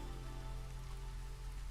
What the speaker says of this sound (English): The weather right now is drizzle, which is the good weather.